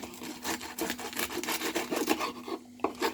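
Crisp, dry crunching and scraping as crispy Turkish toast is sawed through with a knife, in short repeated strokes close by.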